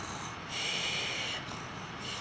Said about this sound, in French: c'est un ronflement complètement normal